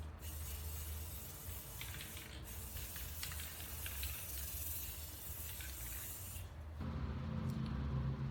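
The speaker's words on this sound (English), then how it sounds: "There are a few little spots that I see that I want to make sure that we spray in" Spray paint hisses in a long, continuous close burst over a jewelry display case, keeping a steady stream with slight shifts in tone before a change near the end.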